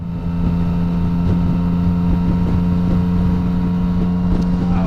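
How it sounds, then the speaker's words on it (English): Steady, loud wind roar with a low engine drone from riding a 2016 Yamaha MT-09 Tracer motorcycle along a highway section with the screen raised, continuous and unbroken throughout. "Let's see what this small highway style section is like for wind noise."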